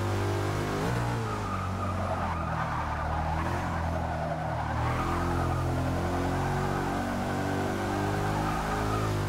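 A Porsche Cayenne SUV engine in the racing video game Forza 6 drones steadily with shifting revs and a brief tire squeal, loud and continuous with no voices.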